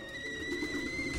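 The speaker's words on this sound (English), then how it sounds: "I love the little kettle whistle." A small kettle-shaped creature in Alice: Madness Returns lets out a thin, steady whistle, two sustained high tones holding evenly for about a second over a low background rumble.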